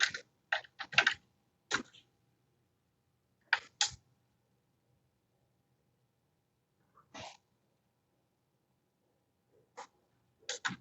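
Bursts of keystrokes on a computer keyboard, entering an expression into the Desmos graphing calculator, come in short clusters separated by pauses, fairly close and crisp in an otherwise quiet room.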